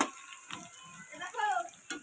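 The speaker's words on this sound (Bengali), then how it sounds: "দেখো আমার মশলাটা পুরো ভাজা হয়ে গেছে" Spices frying in a pan for a pangas fish curry give a faint steady sizzle, broken by a few soft scrapes and clinks of stirring, heard close and quiet without talk.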